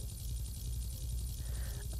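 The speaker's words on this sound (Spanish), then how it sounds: "A ver, en helicóptero." A steady, loud helicopter rotor drone from the Roblox game Brookhaven runs continuously, with a faint tonal blip near the end and no voices.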